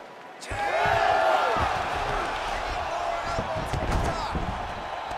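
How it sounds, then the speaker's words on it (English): Arena crowd in a UFC 5 fight simulation swells into a loud, sustained roar after a sudden onset, with thuds and impacts from the fighters and a commentator's voice running over the top. "So the crowd absolutely loving it as these fighters work their way back to the feet"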